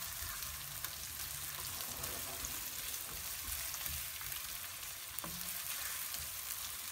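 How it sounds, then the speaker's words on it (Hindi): Onions fry in hot oil on a tawa with a continuous dense sizzle and crackle, close and steady throughout, with one brief utensil knock. "हम इसमें डालेंगे प्याज, प्याज को हम हल्का नरम करेंगे।"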